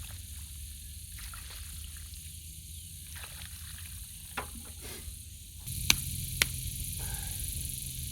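Cicadas buzz outdoors beside a catalpa tree in a constant, faint, high drone over a low background hum, with a few sharp clicks and a small jump in level near the end.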